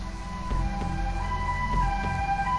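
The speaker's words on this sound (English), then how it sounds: "he heard the sound of an ambulance sirens approaching" Ambulance sirens approaching in the video game 428 Shibuya Scramble, a steady tonal wail under a throbbing low pulse that repeats about every half second, alone and moderately loud.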